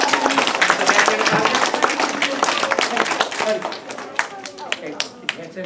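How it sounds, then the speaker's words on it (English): An audience claps for volunteers at a live animal show, a dense patter of hands that is loud at first and thins toward the end, with talk and a few sharp taps mixed in. "Let's give our volunteers a round of applause."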